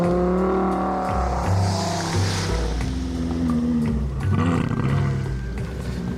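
A Lamborghini Gallardo LP560-4 drives on ice in normal mode with ESP on, its engine a steady, loud near drone that rises and falls in pitch across the stretch, with no talking.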